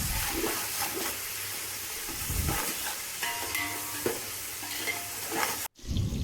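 Onions and green chillies fry in hot oil for chicken biryani, a continuous close sizzle with scraping stirs throughout and a brief cut near the end, and no voices.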